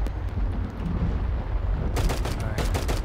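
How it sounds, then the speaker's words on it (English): Gunfire in the video game Garry's Mod: a low rumbling background rises into a burst of rapid, sharp shots near the end, with a dense volley of cracks that sounds close and fairly loud. "Gunshots are still blasting out."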